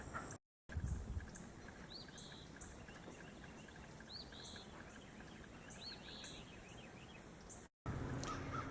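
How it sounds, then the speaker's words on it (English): An eastern phoebe calls in an October garden: short, rising chirps repeat several times at moderate distance over a steady outdoor hiss, with faint insect-like ticking in the background. "that's the sound of the phoebe bird"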